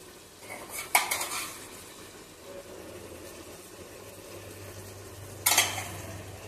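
A spoon stirs salt into gongura chicken curry in a pan, giving two sharp metal clanks about four seconds apart over a low, steady simmer with faint scraping between.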